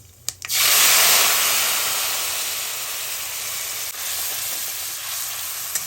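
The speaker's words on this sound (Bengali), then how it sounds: "তো এখন আমি এই তৈরি করে রাখা মশলাটা দিয়ে দিচ্ছি এর ভিতর" Cumin spice paste drops into hot oil with a sudden loud sizzle that settles into a steady, bright hiss and crackle lasting several seconds, with no talking.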